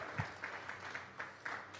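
A church congregation at a Sunday morning service claps in a rhythmic, unison pattern, with regular bursts about every quarter second, moderately quiet and without talk over it.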